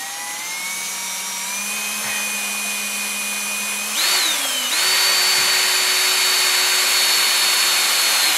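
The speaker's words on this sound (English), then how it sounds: "So this is a 1/2-inch drive, cordless. I got it set on low for right now." A cordless 1/2-inch drive drill on low speed spins the oil pump of a 1988 Jeep XJ 4.0 engine to prime it, giving a steady close whine that jumps to a higher pitch about halfway through and then holds.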